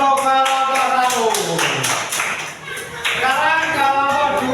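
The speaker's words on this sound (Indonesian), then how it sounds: "Tepuk tangan untuk kelompok 1" Students in a classroom clap together for group 1 during a religious studies lesson, a dense patter of hands mixed with children's voices talking and calling out throughout.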